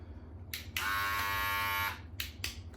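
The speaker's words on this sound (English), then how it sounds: "Weil lithium ion shaver" A lithium-ion Weil electric shaver buzzes steadily for about a second, close and loud, with short switch-on bursts before and after; no talking.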